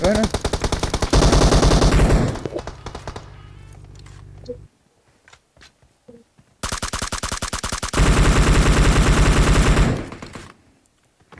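Automatic weapons fire in long, rapid bursts during a PUBG Mobile firefight, loud and close, with a quieter stretch of scattered single shots between two sustained volleys.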